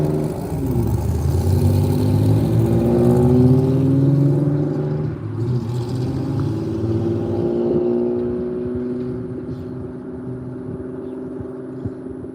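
Several cars rev loudly and sweep past on a street during a Sunday morning walk, engines rising then fading into the distance, with no talk over them.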